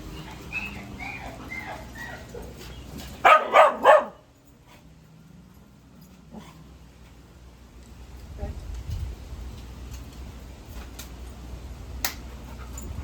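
Dogs being walked during a temperament assessment bark in a short cluster of three or four sharp, loud barks close by, with talking before them and quieter outdoor ambience with faint distant sounds afterward.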